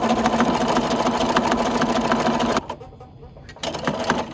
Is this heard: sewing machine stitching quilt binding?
yes